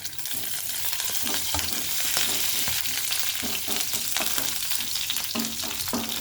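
Dried red chillies and curry leaves sizzle in hot oil, a steady close crackle with brief stirring scrapes and pops throughout, no voices.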